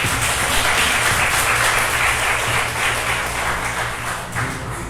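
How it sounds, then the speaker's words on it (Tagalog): A church congregation at a Sunday worship service applauds continuously in a dense, steady roar of many hands that swells and then eases slightly, with no talking over it. "Isa pong pumalakpak para sa ating Panginoon."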